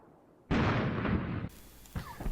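A single loud blast from a missed shot in the wargame Armored Brigade 2 bursts in abruptly and rumbles for about a second, followed by fainter crackling aftershocks.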